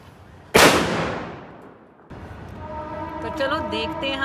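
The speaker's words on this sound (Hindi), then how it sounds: "आज हम करेंगे टेस्टिंग ये कोक ब्रांड की क्लासिक फॉइल एंड कॉरिनेशन के नाजी बॉम्ब की" A single sharp foil bomb firecracker blast, set off for Diwali, bursts loudly and decays over a second or so, then a voice speaks over outdoor background noise.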